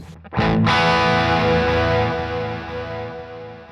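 A sustained electric guitar chord through a Sonicake Pocket Master multi-effects preset, distorted and shimmering with chorus-like width, ringing out and slowly fading.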